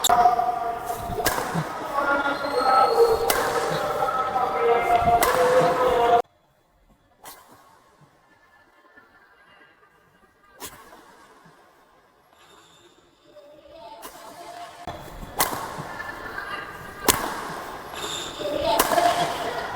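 Sharp badminton smash hits of a racket on a shuttlecock crack in quick succession, loud and close, separated by a stretch of near silence, with talk between.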